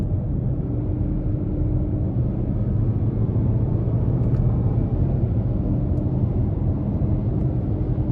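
Steady low engine and road rumble inside a 2022 Hyundai Tucson Limited AWD during a test drive as paddle shifters are used, a continuous droning hum with no distinct shift events standing out.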